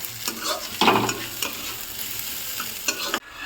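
Onions stirred and frying in a pan for pav bhaji, with a steady sizzle broken by louder scraping stirs near the start and again toward the end, close and alone.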